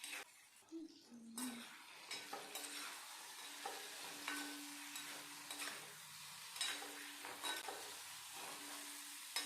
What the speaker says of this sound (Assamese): বিলাহী আৰু আলুখিনি অলপমান ভাজ খোৱালৈকে এইখিনি ভাজি থাকিম